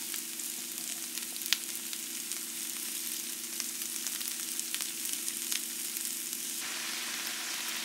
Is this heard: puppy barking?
no